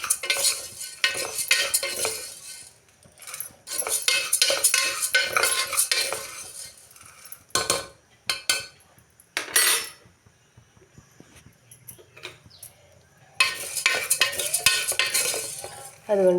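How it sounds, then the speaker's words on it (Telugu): Dry lentils (dal) being roasted and stirred in a pan, with repeated scraping and clinking of a spoon against metal in bursts separated by short pauses, close and clear with no talking. "ఇప్పుడైతే నేను పప్పు అయితే దోరగా అయితే వేయించుకొని"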